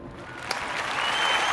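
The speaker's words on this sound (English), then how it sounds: "You actually deserve a round of applause." A sustained round of applause from an audience, steady clapping that swells slightly toward the end.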